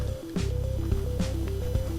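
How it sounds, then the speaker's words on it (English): Water droplets fall from a source above onto a Minecraft scene with potted plants, a few soft splats landing at irregular intervals over a quiet steady backdrop of looping game music tones. "here we have water droplets coming down from a water source above everywhere"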